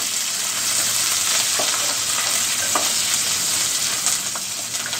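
Curry leaves fry in hot oil for Bombay rava upma, giving a steady close sizzle with a few sharp crackles and pops, no voices over it.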